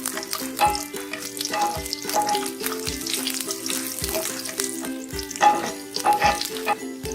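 Chopped garlic with cloves and spluttered mustard seeds frying in hot oil, a steady close sizzle with regular scraping stir strokes throughout, no voices.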